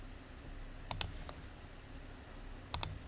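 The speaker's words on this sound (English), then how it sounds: "you can hit the A on the keyboard." Computer keyboard keys are pressed in two quick bursts, a pair of clicks followed later by another pair, crisp and close over a quiet room hum.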